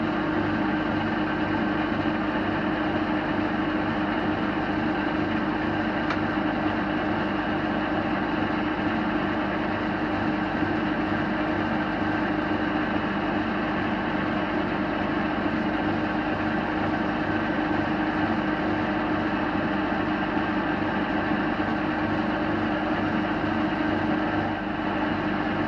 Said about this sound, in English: This is the new tool to cut the taper.